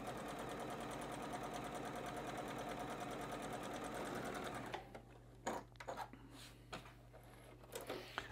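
Sewing machine stitching batik quilting fabric down a drawn line, a loud steady mechanical whir for about five seconds that stops abruptly, followed by quieter handling noises and a low background hum.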